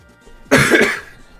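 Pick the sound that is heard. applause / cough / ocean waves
cough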